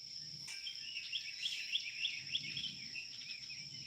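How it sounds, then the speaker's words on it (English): A small bird chirps faintly in a quick series of thin, high notes over a steady background hiss outdoors. "And that little bird"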